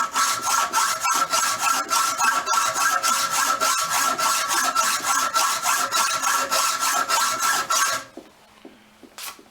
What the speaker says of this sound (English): Just going to try a hacksaw